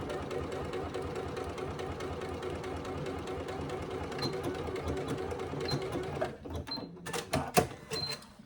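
Close, steady whirring of a sewing machine stitching the lining of a hobo bag, running continuously and then breaking into a few short bursts and stops near the end.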